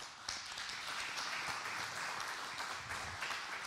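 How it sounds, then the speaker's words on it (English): Steady applause from a group at a weekly Torah study session, dense and even for nearly four seconds with no talking over it. "You can clap for that."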